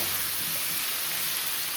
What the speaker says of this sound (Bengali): পেঁয়াজটা হালকা ভাজা হয়ে যাওয়ার পর আলুগুলোকে দিয়ে দিয়েছিলাম